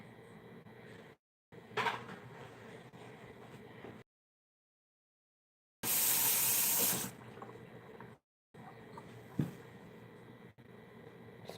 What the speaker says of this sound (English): I gotta wash my hand clean